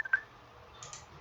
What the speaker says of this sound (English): Some sort of phone call going through.